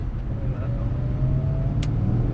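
A car at drift practice drones with a low, steady engine note at moderate distance. The engine holds a fairly constant pitch rather than rising sharply, and faint background noise sits underneath.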